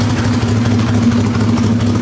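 A Ford Pinto race car engine idles loudly close by, a steady, throbbing low rumble with a constant pulse and no revving, heard alone without talk.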